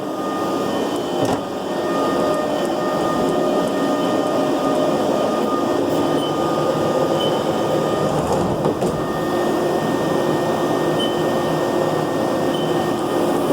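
A lathe spindle runs at a steady hum with a faint mechanical whine, near and continuous with no talking, a couple of brief clicks along the way.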